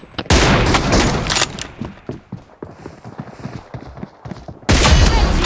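Loud bursts of gunfire in the PUBG Mobile battle royale game, dense rapid volleys at the start and end with scattered single shots in between.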